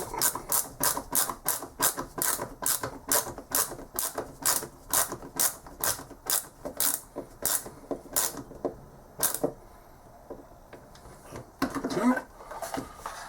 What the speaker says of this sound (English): Screw this in.